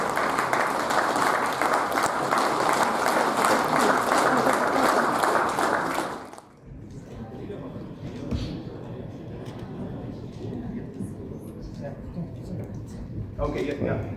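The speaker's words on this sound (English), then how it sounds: "A round of applause for Melibat Crow, ladies and gentlemen." Loud, dense applause from the audience at a sports event honoring athletics winners, steady for about six seconds, then cutting off abruptly to low crowd murmur and scattered voices.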